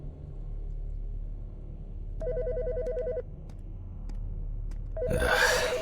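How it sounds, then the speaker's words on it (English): A telephone rings twice with an electronic two-tone trill, each burst about a second long, clear against a low background hum, followed by a burst of louder noise. "The fucking phone."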